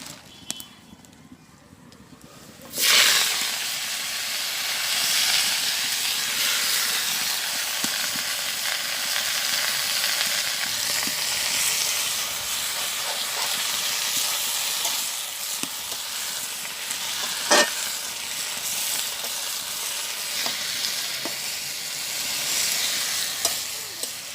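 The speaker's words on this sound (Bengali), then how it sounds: "তেল গরম হয়ে গেছে, আমি এখন এর উপরে শাকটা দিয়ে দেবো।" Data shak, chopped leafy stalk greens, drops into hot oil with cumin seeds and bursts into a loud, sustained sizzle after a quiet start. The frying crackles on under occasional stirring clatter.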